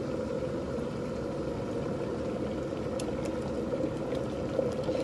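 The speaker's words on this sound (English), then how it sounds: "So that now is boiling." A kettle with its lid off boils water mixed with citric acid for descaling, giving a steady, dense rumbling bubble that holds at an even loudness throughout, with faint clicks and no talking.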